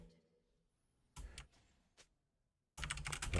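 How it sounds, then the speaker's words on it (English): Bursts of computer keyboard typing during an online game session: a quick flurry, a single tap, then a dense loud run of keystrokes, separated by silence. "Should probably not be typing from the edge of the bush."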